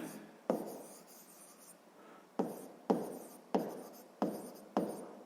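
Pen or pencil writing out a maths exercise on paper, a series of short scratchy strokes in bursts with brief pauses between, close and quiet with no talking.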